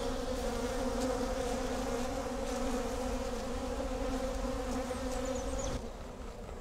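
Honey bees drone steadily around an open hive during an inspection, a dense, continuous buzz close by with occasional individual bees passing nearer.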